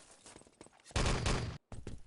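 Gunfire in the online shooter Enemy Territory during a 3on3 tournament match, with scattered shots followed by a loud, dense half-second burst of firing, a brief gap, then more shooting.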